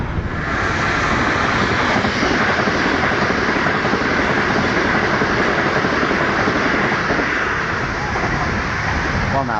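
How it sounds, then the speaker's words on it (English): A fast train rushes past the Portslade level crossing, a loud, sustained roar of wheels and wind buffeting close by, with wind noise on the microphone throughout. "Well, now that was a fast train."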